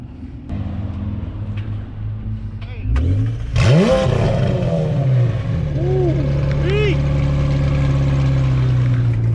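A McLaren MP4-12C sports car engine revs hard with loud exhaust roar, climbing and dropping in pitch over a steady idle rumble, with voices talking over it.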